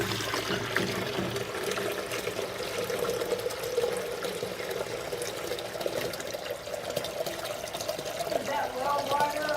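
Three quarts of water pour steadily for making peanut butter cream ice, a continuous gushing splash. It stays loud and close throughout, and people talk over it.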